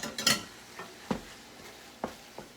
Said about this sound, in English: we're going to put these peppers and onions back in, like so